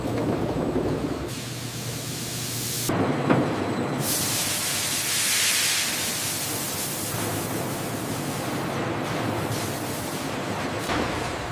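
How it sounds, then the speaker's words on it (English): High-pressure steam blasts loosen carrot skins in a processing plant, a loud, continuous broadband hiss and roar with surges and abrupt cutoffs, no voices. "High-pressure steam instantly loosens the skin of thousands of carrots."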